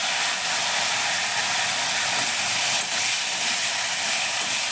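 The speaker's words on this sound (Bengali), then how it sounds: "এবার পেঁয়াজটাকে লাল লাল করে আমি একটু ভেজে নেব" Chopped onion frying in hot oil, giving off a loud, steady sizzling hiss that holds evenly throughout with no voices.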